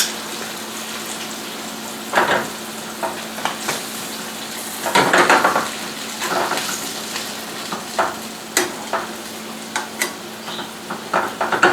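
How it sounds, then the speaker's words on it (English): Butter foaming and browning in a hot pan beside boneless chicken breast for parmigiana: a continuous crackling sizzle, close and fairly loud, with intermittent spatters and stirring scrapes, no speech. "You can see the butter gets nice and foamy and starting to brown."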